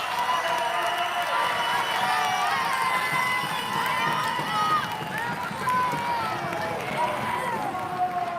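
A crowd at a UCI Men's Elite 20-inch bike trials World Cup final in France keeps up a steady wash of cheering and shouting over the full stretch, dense and continuous, with a commentator's voice carrying over the top.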